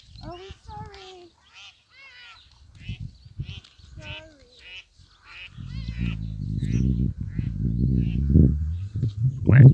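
Farm birds call out in a run of honking quacks, loud and close at first, then give way to low voices talking nearby.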